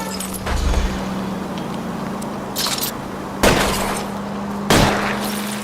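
Car chase in the LA Noire remaster: a steady engine hum under sharp, loud gunshots and crashing impacts spaced a second or so apart, with a brief crunch near the beginning.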